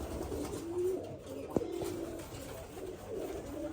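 White pigeons coo in soft, repeated rolling calls nearby, with one sharp click or tap cutting briefly through the cooing midway.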